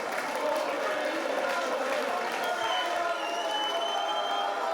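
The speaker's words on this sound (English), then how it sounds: "as this crowd cheers" A crowd at a caged fight event cheers and applauds through the whole stretch, a dense roar of voices and clapping, with an announcer's voice over it.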